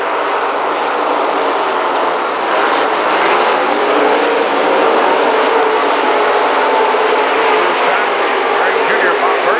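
Late model race cars roar continuously around the Lernerville Speedway dirt oval, a loud sustained engine wash with a commentator talking over it throughout.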